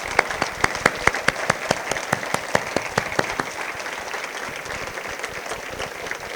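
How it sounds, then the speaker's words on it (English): Applause at a chamber of commerce awards ceremony, opening with rhythmic, evenly spaced unison clapping that loosens after about three seconds into a scattered, softer patter from the audience. "Now you can applaud."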